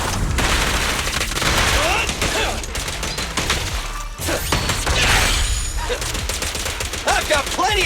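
Rapid bursts of gunfire in the video game Zenless Zone Zero, loud, close and dense, with heavy booms and impacts layered over game music and voice lines.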